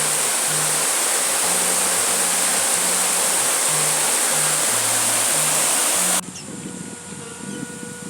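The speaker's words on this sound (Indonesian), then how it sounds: "Kita lihat sungainya" Rushing river in a Sundanese village on the West Bandung–Cianjur border, heard as a loud steady broadband roar of flowing water for about six seconds, then dropping abruptly to a quieter wash.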